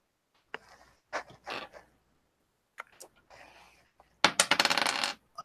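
Dice clatter and rattle across a tabletop in a few separate bursts, short and close, with the last and loudest roll tumbling for about a second.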